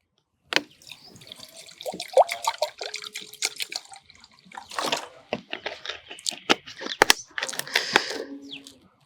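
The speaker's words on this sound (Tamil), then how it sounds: "இப்போது நாம் ஒரு பாத்திரத்தை வச்சு தேவையான அளவுக்கு தண்ணி ஊற்றுறோம்" Water splashes and streams into a cooking pot in a home kitchen to make dry ginger coffee, pouring in uneven bursts with short pauses and a few clinks of the vessel, close and fairly loud.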